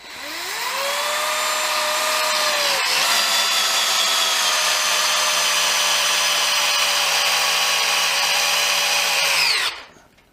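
Dewalt DCD776 18V drill driver running loud and close for nine seconds, a steady high whine that briefly dips early on, then stops abruptly.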